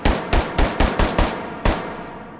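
A 9mm single-stack pistol fires in the VR game H3VR, six sharp shots in a steady rhythm and then a seventh after a slightly longer pause, each shot loud and close with a short tail and no voices.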